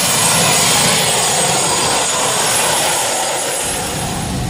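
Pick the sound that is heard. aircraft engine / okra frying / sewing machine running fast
aircraft engine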